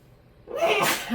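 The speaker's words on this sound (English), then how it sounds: "I think I'm gonna sneeze." One loud sneeze up close, a quick breathy build-up followed by a sharp burst.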